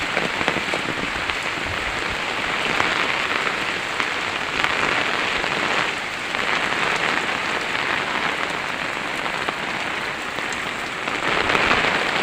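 Heavy rain pours down in a steady, dense hiss that holds at the same loud level throughout, with no voices.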